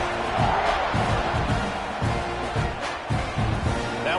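Stadium crowd roaring before kickoff at a Texas A&M versus LSU college football game, a dense, sustained wall of cheering and yelling with rhythmic surges, heard steady and loud with little speech on top.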